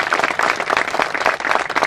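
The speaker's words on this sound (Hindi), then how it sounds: "उनके लिए जोरदार तालियां होनी चाहिए" Audience applause at the opening ceremony of a biocoal factory in Mohan Badodiya, honouring Manoj Patidar, a dense, steady wash of many hands clapping close by throughout.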